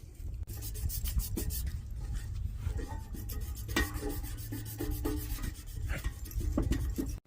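Sandpaper scrubs by hand into the corners of Farmall Cub tractor parts, producing a close, continuous raspy rubbing with uneven back-and-forth strokes and a few sharper scrapes.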